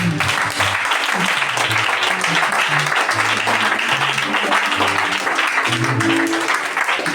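A church congregation applauds during a French-language thanksgiving service, with steady, sustained clapping filling the room and a few voices faintly mixed in beneath.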